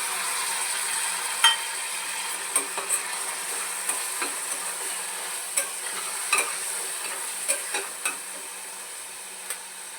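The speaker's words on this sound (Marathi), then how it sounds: "बारीक चॉप केलेला आपण टोमॅटो टाकत आहे" Chopped tomato stirred into golden fried onions for a pea and potato curry, a soft continuous sizzle broken by repeated sharp spoon taps and scrapes against the pan every second or so.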